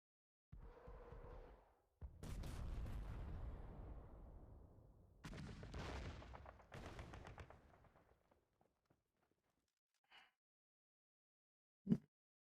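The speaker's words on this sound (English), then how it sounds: "if our enemy is insistent on using artillery, that's fine" Artillery fire in a video game: a heavy thudding report followed by rumbling volleys that roll and fade into near silence, then a sharp distant crack.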